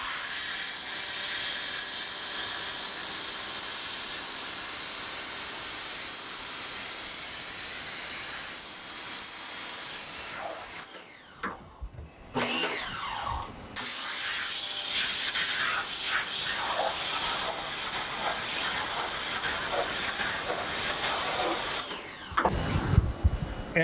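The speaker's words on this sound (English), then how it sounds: "I'm gonna go turn the pressure washer back on and blast this off real quick" A pressure washer blasts a screen printing screen clean during reclaiming, a loud steady hissing spray that cuts out briefly twice before resuming at full force.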